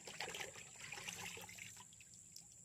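A cleaned, butterflied fish drops into a basin of rinse water, a soft close splash and trickling slosh that fades within a couple of seconds over a faint steady whine.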